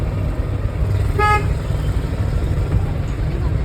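A Maruti 800 car sounds one short horn toot during a family driving lesson in Chertala, a brief tone standing out over steady engine and road rumble, with no speech.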